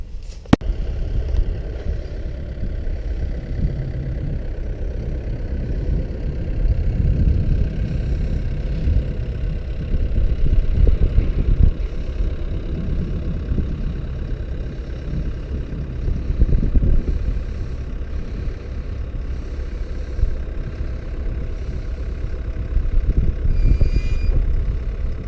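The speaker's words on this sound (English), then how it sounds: "we're now using the big tractor, the 9960, instead of the small one." A big 9960 tractor hitched to a hay trailer rumbles with a deep, steady diesel drone, heard continuously for the whole stretch with mild swells in loudness and no talking.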